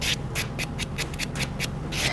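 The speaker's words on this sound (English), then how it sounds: "just go over with a white block. This takes out the scratches from the extension file" A white buffing block rubs briskly back and forth over an acrylic French-manicure nail, giving rapid, evenly spaced scratchy strokes close to the ear.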